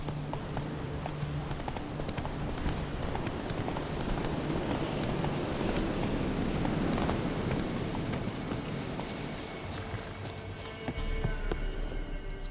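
Roach, the horse in The Witcher 3 video game, gallops steadily with a fast, rhythmic clip-clop of hooves that continues throughout over a soft background wash, with no talking.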